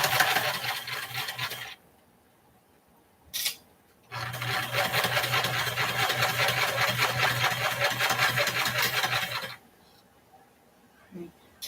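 Sewing machine stitching fabric for a heart-shaped pillow pincushion, a steady buzzing whir in two runs, one short and one lasting about five seconds, separated by brief handling noises and quiet pauses.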